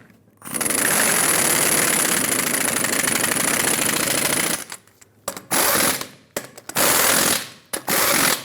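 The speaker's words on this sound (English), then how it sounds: "we're going to torque these to 140 foot-pounds" Air tool or torque wrench tightening wheel lug nuts on a 2003-2009 Dodge Ram 2500 rear hub in a cross pattern, a loud sustained mechanical whirring burst followed by several short, choppy bursts, with no talk.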